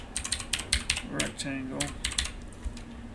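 Rapid clicks of a computer keyboard during a Fusion 360 CAD modelling session, keystrokes coming in quick uneven bursts close to the microphone while someone speaks a word over them.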